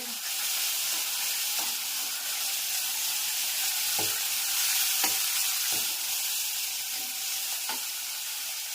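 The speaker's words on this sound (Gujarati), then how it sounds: "સરસ મજાનો વઘાર થઈ ગયો છે." Loud, constant sizzling of cloves, bay leaf, curry leaves, chilli and tomato tempering in hot oil, with a few faint taps of a spoon against the pan.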